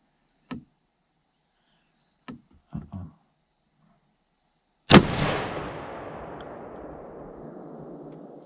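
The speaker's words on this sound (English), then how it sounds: "I might just go ahead and shoot." A single loud rifle shot fired while hunting a wild boar outdoors, with a long echoing decay afterward. A few faint rustles come first, under a steady insect whine.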